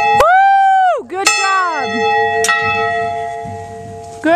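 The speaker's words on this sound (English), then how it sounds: "Let's ring the bell." A metal bell rung by hand in a public garden, with three loud ringing strikes spaced a second or more apart, each leaving a long shimmering decay.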